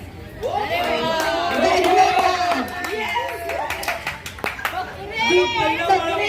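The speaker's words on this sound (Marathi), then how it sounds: "एकदा दीपू काकांसाठी जोरदार टाळ्या." A crowd at a Ganpati festival music and chamcha goti competition claps for a third-prize winner, with the applause mixed into loud shouting voices and chatter.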